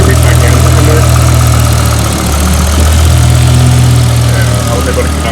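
A BMW M5 V10 engine idles after an ignition coil misfire repair, a loud, steady, close low rumble with a constant hum and no breaks throughout.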